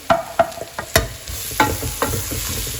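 Onions sautéing in a pan for chicken curry, with a steady soft sizzle broken by several sharp scrapes and stirs of a spoon against the pan, heard up close and without talk.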